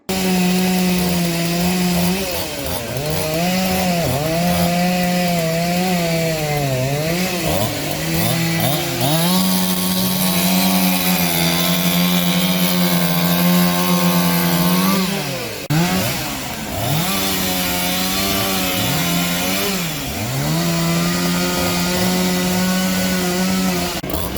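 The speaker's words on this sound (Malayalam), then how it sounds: "ഫയർ സ്റ്റേഷൻ ഓഫീസിലെ സേനാംഗങ്ങൾ എത്തി മരം മുറിച്ചു മാറ്റി" A chainsaw roars continuously as a fire crew cuts up a tree downed by rain and wind, its engine pitch rising and dipping repeatedly as it bites through wood, loud and close with no talking.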